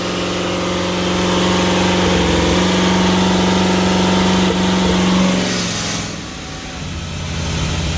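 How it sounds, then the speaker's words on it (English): A motorhome engine runs with a steady mid-low drone and strong tonal hum, rising briefly as if revved and then dropping off; no distinct backfire pops stand out. "Still like backfiring a little."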